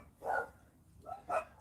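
Dogs bark outdoors in the morning, two distinct barks about a second apart, moderately distant over quiet background hum.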